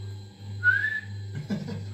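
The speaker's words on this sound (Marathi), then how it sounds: "ए शिट्ट्या नको वाजत जाऊ" A person whistles a single brief rising note at home, faint against a steady low electrical hum, followed by a few soft clattering sounds.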